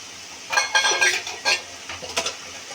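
Kochu shaak (taro greens) with boiled chickpeas being vigorously stirred in a pan, a spatula scraping and clattering in irregular bursts over a soft background sizzle.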